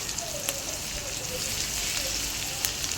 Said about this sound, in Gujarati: હલકું ધીરે ધીરે સાતળી લઈશું